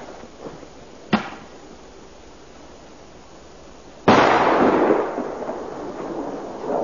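A Thunder King firecracker goes off outdoors: a faint crack early on, then a loud, sharp blast followed by a sustained, crackling rush of noise that slowly fades, with no talking.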